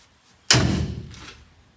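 A car door closes with one solid, close thud, followed by a short fading rumble and a faint second knock.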